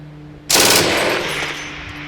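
A German MG3 belt-fed machine gun with a chrome-lined barrel and modified muzzle attachment fires a sharp, loud burst that cuts in suddenly and then rings out in a fading roar.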